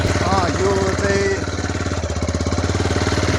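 A motorbike engine labours through river sand on the Dudhkoshi River, a loud, rapid pulsing throb that stays close and continuous throughout.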